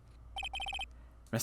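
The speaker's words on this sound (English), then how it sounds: "What is this stupid sounding ringtone?" Phone ringtone in the video game Phoenix Wright, a quick series of bright, electronic beeps in a short rapid burst, followed by a voice starting to speak.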